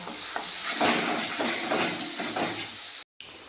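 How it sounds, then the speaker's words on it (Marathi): Ground garlic and onion paste sizzling in hot oil in a kadhai, a steady close hiss with faint stirring scrapes, cutting off abruptly near the end. "इथं कढईत तेल ओतून घेतलंय, त्यात मी वाटण टाकणार आहे"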